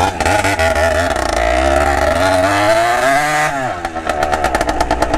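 A Yamaha XTZ 180 motorcycle fitted with a modified two-stroke Titan engine revs hard and close, its buzzing tone rising and holding, then dropping into choppy, uneven pops.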